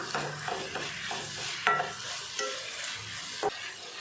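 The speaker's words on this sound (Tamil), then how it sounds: "இப்போ உப்பு பூண்டு எல்லாமே இந்த கீரையோடு சேர்ந்து நல்லா கலந்து வதங்கி வெந்து வரணும் நல்லா வதக்கிடலாம்" Ponnanganni greens with salt and garlic are stir-fried in a pan, a soft steady sizzle broken by periodic scraping stirs and a couple of sharp utensil clinks, close and alone without talk.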